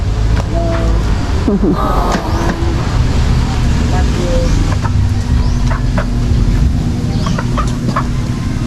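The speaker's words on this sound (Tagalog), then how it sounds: "Tapos na kaya sila Nanay Gina sa mga manok ko." Chickens cluck and squawk in short bursts around a farmyard, with people talking nearby and a steady low rumble in the background.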